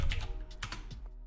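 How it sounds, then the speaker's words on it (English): Keys clack on a computer keyboard as a stock ticker symbol is typed into a trading chart site, a short burst of several quick, close taps with no voices. "I'll type in a symbol. I'll type in, I don't know, Tesla."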